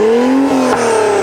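An Acura NSX engine revving loudly up close, its exhaust a sustained droning tone that climbs and dips slightly across a brief moment.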